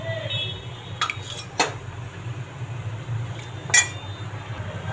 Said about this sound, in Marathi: शिजवलेली डाळ 2-3 चमचे ॲड करते